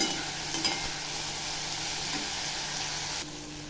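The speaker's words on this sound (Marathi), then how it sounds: "भाज्या चांगल्या फ्राय करून घ्यायच्या तेलामध्ये" Vegetables and tomato fry in oil while being stirred, a continuous close sizzle with scraping stirs throughout that eases slightly toward the end, with no talking.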